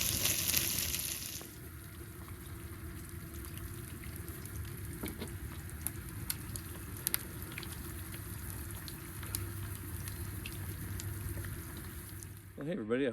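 Mild Italian sausages fry over a campfire on an ice camping trip in the Alberta Rockies, a steady close sizzle and crackle running throughout with occasional pops.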